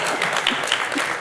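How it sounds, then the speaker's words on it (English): An audience at an architecture prize celebration breaks into a round of applause, a steady, close wash of many hands clapping continuously for just over a second. "round of applause for that, yeah."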